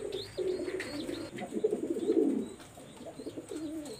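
Pet pigeons in a loft coo in soft, rolling, repeated calls close by, with faint chirps and rustles between the phrases and no voices heard.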